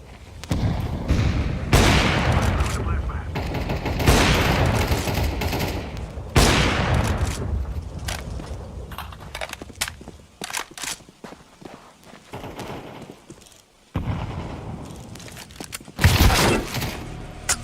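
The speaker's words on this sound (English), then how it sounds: "Throw in a flashbang. Grenade out." Video-game combat with flashbang and grenade explosions amid gunfire: loud broadband bursts and rattling volleys come in waves, with quieter footsteps and clatter between them and a sharp final blast.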